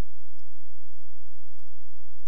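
A computer mouse gives a right-click during desktop mapping work in ArcGIS: a couple of soft, brief clicks over a steady low electrical hum, with no voices.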